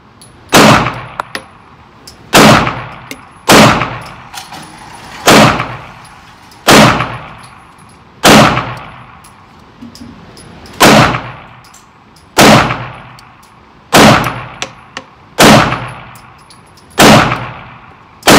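Glock 48 pistol firing 115 grain Fort Scott rounds at a shooting range: a dozen loud, sharp reports with ringing tails, spaced about one to two seconds apart in a steady cadence.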